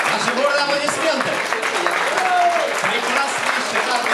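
An audience at a Škoda car club birthday gathering claps continuously for a new Škoda concept car presented as a gift, the dense applause carrying on evenly with some cheering voices mixed in.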